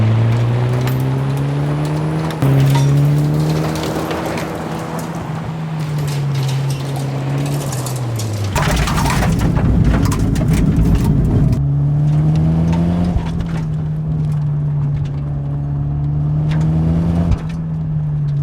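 A Toyota Celica GT-Four rally car driving hard on gravel, its engine revving and shifting through gears loudly and close, with a burst of rough gravel and wind noise midway.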